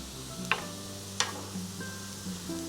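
Beet greens hit a hot Instant Pot with a soft sizzle, two brief clattering drops over a low steady hiss and hum, close by with no talking.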